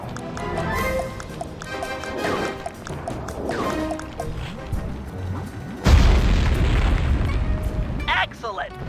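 A TNT explosion in the Sly 3 video game set over a Venetian skyline bursts with a loud low boom about two-thirds through, following a stretch of busy game music and effects, then a rumbling tail.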